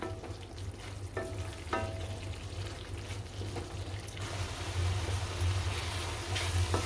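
Cauliflower, peas and curd sautéing in a pan for a cauliflower-pea curry, a steady close sizzle with a low hum beneath and a few soft stirring scrapes, growing slightly louder toward the end.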